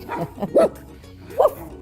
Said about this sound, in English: Why are you growling?